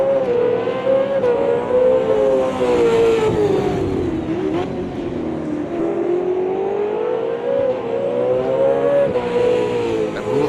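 Race cars at the Adelaide 500 street circuit, including the Red Bull Ampol Racing car, roar loudly and continuously with rising and falling engine pitch as they race, with no speech.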